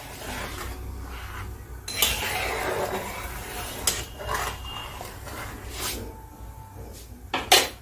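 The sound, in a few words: lid being placed on a cooking pot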